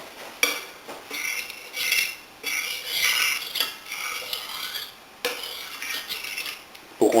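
A utensil scrapes and stirs a potato starch and water suspension around a pan in repeated swirling strokes, metallic scraping rising and falling with a clink near the end.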